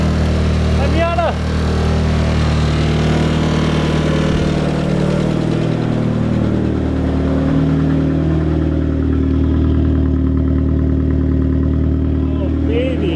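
A turbocharged Mazda Miata engine idles steadily and close, a low even hum with small shifts in pitch, with people talking and exclaiming over it.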